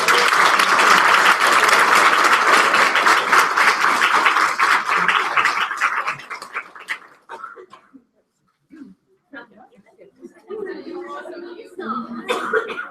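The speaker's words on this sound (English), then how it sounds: "Let's everybody stand and clap for all of our chapters whenever we're ready." A standing audience claps for its chapters in a dense, loud burst of applause that fades out after about six seconds, leaving scattered coughs, throat clearing and murmuring voices.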